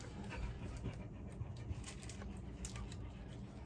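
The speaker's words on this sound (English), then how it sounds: "my dog is lying on my bed here, panting away" A dog lying on a bed pants quietly nearby, with quick soft rhythmic breaths continuing steadily for several seconds at low volume.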